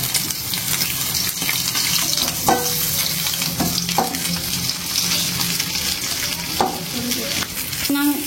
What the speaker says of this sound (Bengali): মাছ সবটি নামে ফেলছি, ভাজা শেষ।